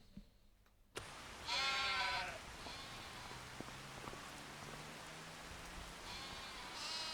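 Sheep in the Farming Simulator 25 video game let out wavering bleats, one near the start and another toward the end, over a constant soft hiss like falling rain.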